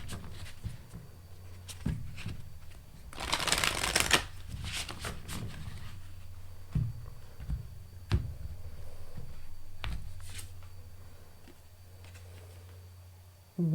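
Tarot cards being shuffled by hand in a quiet room, with soft riffles and taps and one denser, louder burst of shuffling in the middle. A low hum runs underneath and no one talks.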